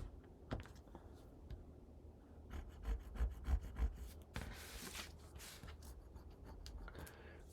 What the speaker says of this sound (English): push our cardstock right up against the edge and then burnish